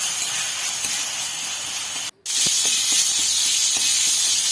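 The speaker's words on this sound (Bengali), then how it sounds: "ঘিটা আমার গরম হয়ে গেছে আর এর মধ্যে যে পেস্টটা তৈরি করে রেখেছিলাম সে পেস্টটি এর মধ্যে দিয়ে দেবো" Spice paste hitting hot ghee for a fresh green pea kachori filling gives a steady, loud hissing sizzle, with a sharp break near the middle before the sizzle surges back, louder and brighter, with faint clinks of stirring.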